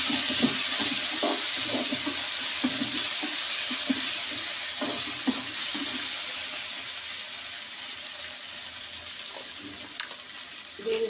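Ginger paste frying in a pan for vegetable upma, a steady bright sizzle with soft scraping stirs and occasional clicks of a spoon, fairly close and continuous with no talk.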